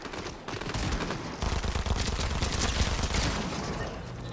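Gunfire in the video game Fortnite rattles in a dense, continuous burst of rapid shots and impacts, loud and steady throughout with no clear talking.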